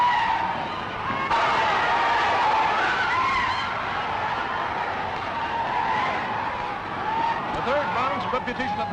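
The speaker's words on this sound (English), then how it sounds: "Get downstairs and get that car started and keep it running." A car pulls away with its tires skidding and squealing, a steady, loud rush of engine and tire noise lasting throughout, mixed with voices talking and rough old-film recording noise.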